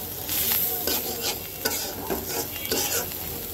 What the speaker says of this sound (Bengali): এবার আরো সুন্দর করে 1-2 মিনিট ভাজা ভাজা করব।